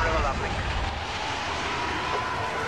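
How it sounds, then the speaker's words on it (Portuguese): An X-wing flies overhead in Star Wars Battlefront on the snowy Hoth battlefield, a loud, rushing engine roar that sweeps past over continuous game noise. "tem um avião já"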